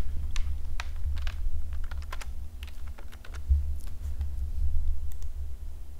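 Rapid typing on a computer keyboard, a close, steady patter of sharp key clicks with irregular rhythm and occasional heavier strokes over a low background hum, no talking.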